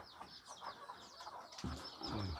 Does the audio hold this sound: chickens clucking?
yes